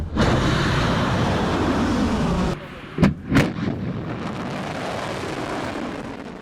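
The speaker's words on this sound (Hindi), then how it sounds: "लेबनान के बैरूत में इजराइल ने देखिए बम बरसाए हैं।" Bombs exploding in an Israeli air strike on Hezbollah sites in Beirut: a sustained roar gives way to two sharp, heavy blasts in quick succession, followed by a lingering rumbling wash of noise.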